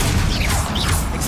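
A fire spell cast in the video game Hogwarts Legacy: a continuous low roaring crackle with a rush of hissing flame across about a second and a half, loud and steady with no speech over it.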